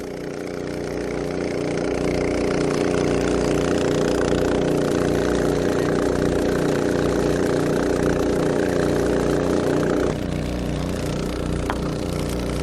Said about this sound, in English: Both pumps are pumping evenly and equally